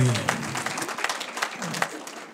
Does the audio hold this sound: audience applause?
yes